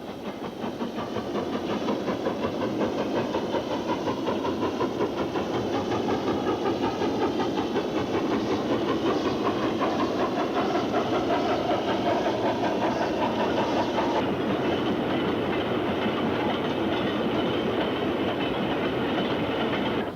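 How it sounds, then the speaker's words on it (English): Steam locomotive 48423 arriving at a railway sorting yard with a train of wagons, a loud, steady rumbling roll with rhythmic clatter building and holding for about twenty seconds, close and unbroken. "48423 arrives home, having come from Healy Mills."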